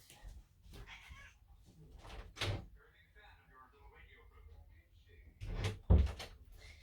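A door opens and closes indoors to let a cat out, with a couple of solid knocks and thuds standing out over steady talking from one person.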